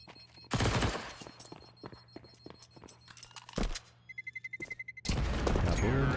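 A bomb blast and gunfire in a Counter-Strike esports match: sharp bursts of shots and footsteps, a rapid train of quieter clicks, then a loud, sustained explosion roar at the end.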